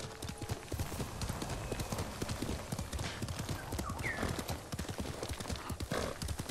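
Steady clip-clop of horse hooves in Ghost of Tsushima, an even rhythmic trot continuing throughout over a soft ambient background.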